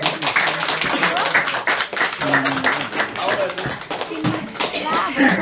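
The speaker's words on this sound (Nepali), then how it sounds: "उहाँलाई हामी ताली बजाउँछौँ।" Audience applause for the ward chairman at a Christmas Day gathering at a church in Urlabari, steady clapping from many hands throughout, with some chatter mixed in.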